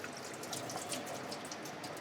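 Water drains off boiled lentils, a steady faint splashing and trickling with scattered drip-like bursts, quiet and continuous.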